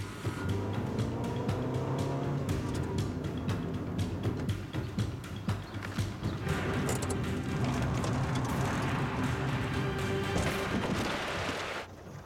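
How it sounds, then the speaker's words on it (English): A car is driven, its engine droning steadily and loudly throughout, with revving changes and rattles, and a clatter near the end. "When it's in gear, Dale still can't drive"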